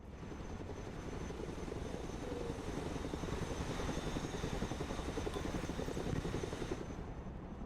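A Chinook helicopter in the video game Broken Arrow, a steady low rotor thrum and engine drone that holds at an even, moderately faint level throughout with no talk.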